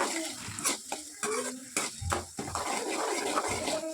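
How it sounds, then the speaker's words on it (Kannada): Onion being fried in oil in a pan while making avalakki (poha), with stirring and clinks of a utensil against the pan over a steady background hiss, close and fairly loud, no talking. "ಒಂದು ಈರುಳ್ಳಿ ಹಾಕ್ಕೊಂಡು ಸ್ವಲ್ಪ ಫ್ರೈ ಮಾಡ್ಕೊಳ್ಳೋಣ ರೀ"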